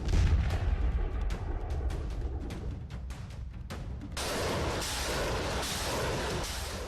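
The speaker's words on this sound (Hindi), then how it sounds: "दुश्मन के किले को तोपों के गोलों से ध्वस्त किया जा रहा है" Russian army artillery shelling an enemy fort, heard as a rapid series of heavy booming blasts over a dense rumbling roar, loud and continuous, shifting to a brighter hissing crackle midway.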